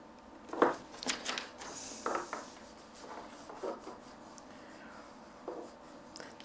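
Rubbing folded paper for a symmetry butterfly painting, with soft, uneven scraping and rubbing strokes, close and faint, in irregular bursts.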